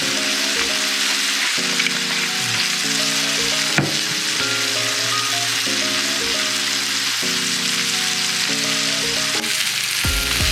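Onions sizzle steadily in a hot pan while they darken and caramelize for a patty melt, with a constant loud frying hiss and no speech.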